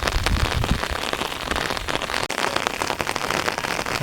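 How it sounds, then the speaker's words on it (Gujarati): Heavy rain pours steadily on a farm, a dense broadband hiss with spattering drops hitting a surface, continuous and loud throughout with no voices. "જો એટલો વરસાદ આવ્યો, એટલું પાણી ભર્યું"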